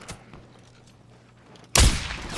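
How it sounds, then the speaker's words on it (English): A mortar strike lands in Call of Duty Warzone: quiet game ambience with faint distant pops, then a sudden loud, close blast at about 1.7 seconds that rumbles on with debris noise to the end. "Friendly mortar strike inbound."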